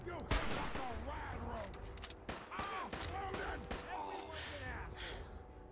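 Fallout 4 gunfire crackles in uneven bursts of shots mixed with dense game action, with speech-like voices running throughout.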